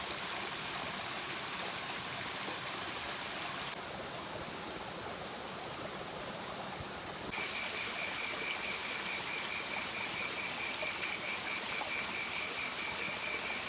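A stream flows at a rainforest campsite, giving a steady, even rush of running water throughout. A faint thin tone joins partway through.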